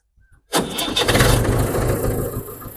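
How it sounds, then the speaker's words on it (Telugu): An old tractor's engine cranks briefly, then fires and catches after a short quiet moment, settling into a loud, close, rough running idle. "ఇప్పుడైతే ఒకసారి ట్రాక్టర్ స్టార్ట్ చేద్దామండి"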